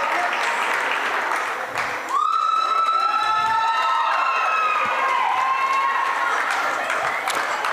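Durango fans cheering their wrestlers at a girls' wrestling tri-dual meet, a loud steady crowd roar with applause filling the gym throughout, and a whistle-like tone rising over it midway.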